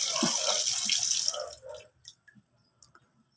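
Water runs from a tap for about a second and a half, then cuts off, leaving a few faint drips and small clicks.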